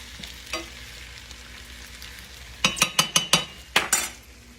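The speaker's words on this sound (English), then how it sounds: "Smother fried. It's got a whole onion in it and 5 potatoes cut up." A whole onion and five cut-up potatoes smother-fry in a pan with a low, steady background sizzle, then a quick burst of sharp metal utensil clinks and scrapes against the pan, repeated in two clusters near the end.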